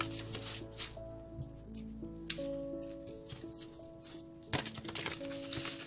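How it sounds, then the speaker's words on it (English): A deck of tarot cards being shuffled during a card reading, with soft riffling and a few sharper slaps of cards over steady background music. "One more shuffle, they say."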